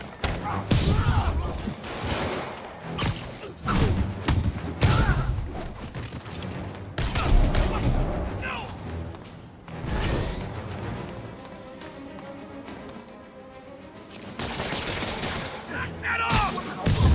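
Enemy gunmen open fire in Marvel's Spider-Man Remastered, bursts of rapid gunshots and impacts mixed with combat thuds and whooshes, with shouted voices over the fighting.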